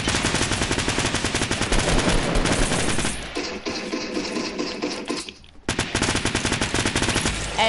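Gun firing in long rapid automatic bursts, loud and close, with a pause of quieter rumbling mid-way before the rattling fire resumes.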